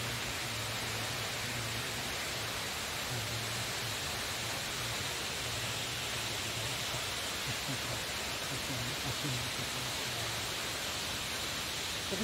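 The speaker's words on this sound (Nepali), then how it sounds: "झर्ना र हामीले यो झर्नाको संरचनात्मक विषयवस्तुलाई हेरौँ" A waterfall in Bajhang, Nepal pours steadily, giving a continuous, even hiss of falling water at moderate distance, with no breaks or other sounds standing out.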